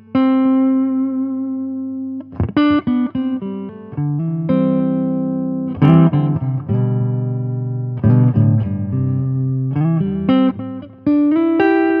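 Analog delay pedal on an electric guitar, clean sustained notes and chords with repeating echo tails trailing each phrase, played alone with no talk.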